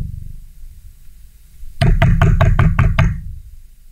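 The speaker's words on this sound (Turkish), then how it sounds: "Evin kapısı çalıyor." Someone knocks on a house door, a series of about seven quick, loud, evenly spaced raps after a low rumbling lead-in.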